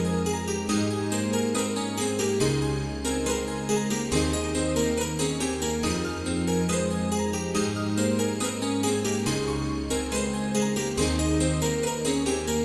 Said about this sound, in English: And the three pianos all together sound like this